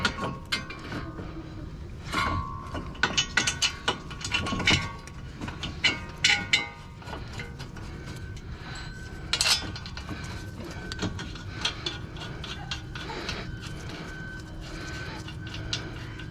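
A ratchet tightens the front brake caliper bracket on a 2006-2008 Toyota RAV4, with bursts of quick clicking interspersed with metallic clinks and handling noises, heard close and fairly quiet, then pausing before more clicking.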